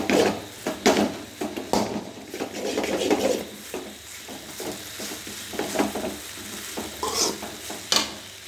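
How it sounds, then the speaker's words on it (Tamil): Egg noodles stir-fried over high heat in a pan, with steady sizzling and repeated scraping, clattering strokes of a utensil against the metal, loud and close with no one speaking. "இப்போ நூடுல்ஸ் இதில் கொட்டிக்கலாம். இப்போ அனல் வந்து வேகமாக வைக்கணும்."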